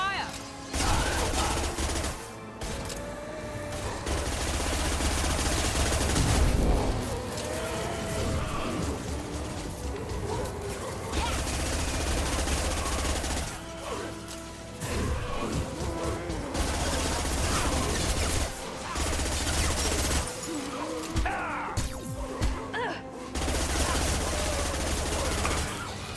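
Rapid gunfire bursts from the Mass Effect video game, dense and continuous across most of the clip with brief lulls, mixed with game effects and music and with people talking over it.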